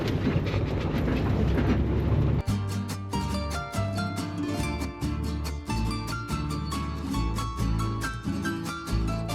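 A train rolls along a railway line in a trucking simulator, a steady loud rumble with rhythmic clickety-clack of wagon wheels over rail joints continuing throughout without speech.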